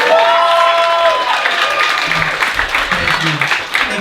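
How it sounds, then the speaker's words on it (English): Audience applause at a live cabaret show at 54 Below in New York, a dense steady wash of clapping mixed with cheers that holds loud throughout and thins slightly toward the end, with some voices mingled in. "Anyone else want to give a round of applause?"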